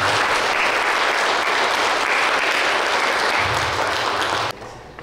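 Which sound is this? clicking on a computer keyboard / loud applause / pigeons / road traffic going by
loud applause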